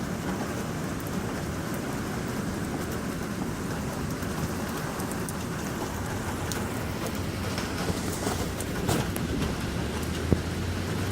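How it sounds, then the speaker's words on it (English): A hailstorm pours down in a steady dense roar of hard pellets hitting surfaces, loud and unbroken throughout, with a few sharper impacts near the end and no talking. "This has just been hell of a hailstorm. And it's just coming down now."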